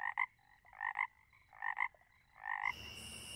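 A frog croaks close by in four distinct bursts, each a throaty double or triple call with short pauses between, followed by a brief wash of higher insect-like background.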